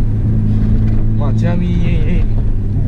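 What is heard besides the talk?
Nissan R32 GT-R engine and loud muffler exhaust while driving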